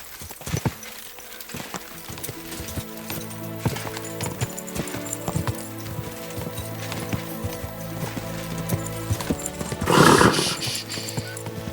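Horse hooves clip-clop in a steady rhythm in the video game Kingdom Come: Deliverance II, joined near the end by a brief whinny, with no talking.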